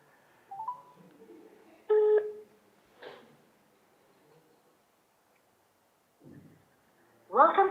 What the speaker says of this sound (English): So they'll dial the number.